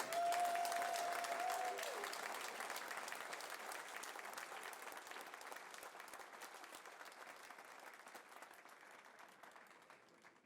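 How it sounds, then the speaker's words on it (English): Audience applause at a sports hall of fame induction ceremony in Midland, a dense crowd clapping that starts loud and gradually fades over about ten seconds, with a brief tone near the start. "How about a big round of applause?"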